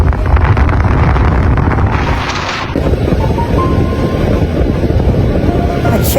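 A motorcycle rides along in the late afternoon toward a night market, with loud wind buffeting the microphone over a continuous engine drone. The drone shifts partway through.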